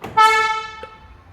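A new car's horn gives a single short, bright chirp as it locks with the key, ringing out clearly and then fading.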